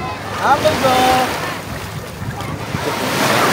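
Sea waves wash onto a white sand beach at Patar, Bolinao, Pangasinan, a continuous surf roar mixed with wind buffeting the microphone and faint voices in the background.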